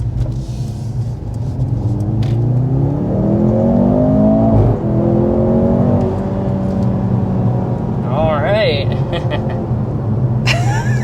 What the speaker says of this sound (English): we'll go ahead and start with a hard acceleration